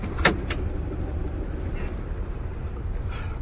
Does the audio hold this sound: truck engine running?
yes